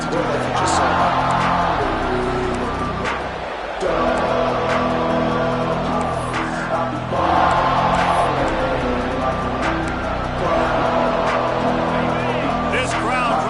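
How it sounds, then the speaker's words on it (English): Dense stadium crowd noise at a college football game between Louisville and NC State, a steady loud roar sustained throughout with swelling surges, heard behind a commentator's voice. "This crowd trying to make life miserable for this offense."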